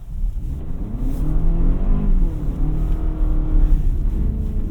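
A 2024 Honda CR-V Sport-L Hybrid AWD pulls away from standstill in snow mode with traction control off, its engine note rising and climbing in pitch as it strains and accelerates, loud and close inside the cabin.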